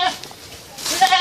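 Goats bleat loudly and close by, two distinct cries at the start and end with a quieter pause between, the animals eager for dry leaf feed.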